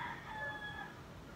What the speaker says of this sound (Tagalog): kailangan yung pagpasensyahan ang mga iba't ibang ingay sa aking paligid, lalo na ang mga manok